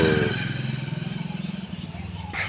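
A motorcycle on the road over a long day of riding. The engine runs steady and close with a rhythmic throb, and a voice talks over it near the start.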